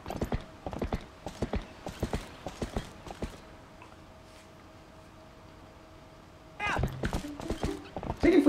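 Horse hooves clip-clop at a gallop in Zelda Twilight Princess HD, a rhythmic run of close hoofbeats that fades for a few seconds and then returns louder, with a neigh near the end.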